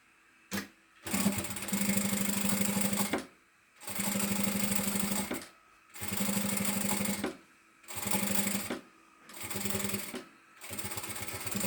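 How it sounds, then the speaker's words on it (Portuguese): Sewing machine stitching a seam on a shoulder bag: about five loud bursts of rapid mechanical running, each a few seconds long, separated by short silent pauses, with no talk. "vamos passar uma costura em cima desse risco."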